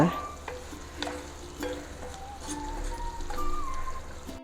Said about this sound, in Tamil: இப்போ நல்லா கலக்கணும்.